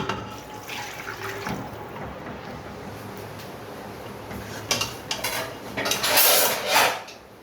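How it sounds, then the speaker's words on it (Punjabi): Water is poured into a pressure cooker holding mutton, a steady trickling splash that swells near the end, with a few metallic clinks of the pot throughout. "ਹੁਣ ਵਿੱਚ ਪਾਣੀ ਪਾਉਣ ਲੱਗੀ"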